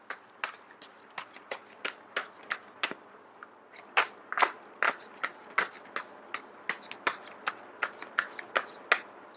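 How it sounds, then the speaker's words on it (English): Tarot cards are shuffled by hand close up, giving a steady run of crisp slaps and snaps, each one distinct, with no talking. "I am going to shuffle until the first card drops out."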